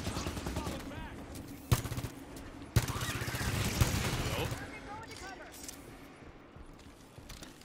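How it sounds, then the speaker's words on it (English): Auto turret in the Halo 5: Guardians video game firing sustained rapid bursts, with two sharp louder shots breaking in before a long rattling stretch that tapers off, under a voice talking. "Turrets on and fire. The auto turret, though."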